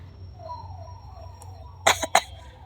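An elderly woman breaks into coughing after shouting angrily, a short cluster of two or three harsh, close coughs following a few seconds of quiet room tone with a faint hum.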